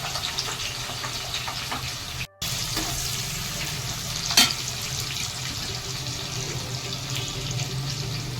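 Sliced onion and green chili pieces sizzling in hot oil in a pan, a steady close hiss of frying with no talk and one brief drop-out partway through.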